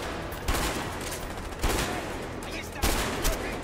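Rapid gunfire from the video game A Way Out, dense and continuous with sharper bursts recurring every second or so, loud and close throughout.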